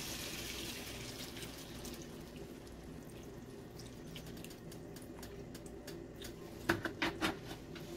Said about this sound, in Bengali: আর এ পর্যায়ে অ্যাড করছি দুধ।